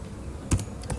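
Keystrokes on a computer keyboard while editing an XAMPP httpd.conf file, a few quiet clicks: one clear pair of taps midway and another light pair near the end, faint and close, with no voices.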